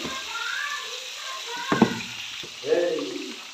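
Fish fries in hot oil in a wok with a continuous sizzle, a couple of sharper spatters midway and a louder bubbling burst near the end, with faint voices in the background.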